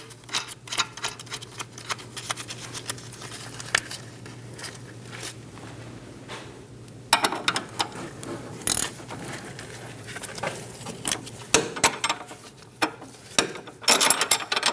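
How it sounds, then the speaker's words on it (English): A ratchet snugs down a sway bar link nut on a 2008-2015 Scion xB during front strut mount replacement, giving repeated close pawl clicks in uneven bursts with short pauses between. "Snug down the nut while holding the stud."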